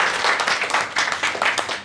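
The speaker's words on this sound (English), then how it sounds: "Give everyone a applause for" A classroom audience claps together in a public speaking activity. The sound is a dense, steady patter of many hands, fairly close and lively, with slight swells and dips in intensity over its short span and no voices on top.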